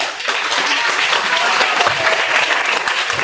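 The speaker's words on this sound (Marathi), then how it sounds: "अशा मुलांसाठी परत एकदा जोरदार टाळ्या वाजवा मित्रांनो" A crowd claps loudly and steadily for children at a Lokmanya Tilak speech event; dense, sustained applause fills the whole stretch without letting up.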